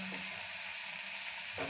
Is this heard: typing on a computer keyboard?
no